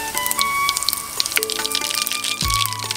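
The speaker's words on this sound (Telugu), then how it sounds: "నూనె గరం అయినాక జీలకర్ర ఆవాలు వేసుకోవాలి." Cumin and mustard seeds crackle and sizzle in hot oil in a pan for Telugu tomato roti pachadi, giving a steady close spatter with a few louder pops, no talking.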